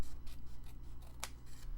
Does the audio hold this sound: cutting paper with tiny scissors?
yes